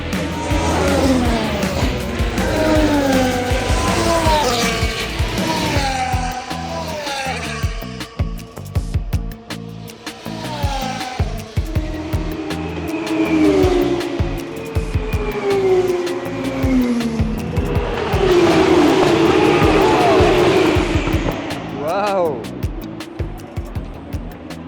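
Race cars roar past during the Imola Grand Prix, with engines revving and tires squealing amid a grandstand crowd. The cars are heard under continuous close-up talk.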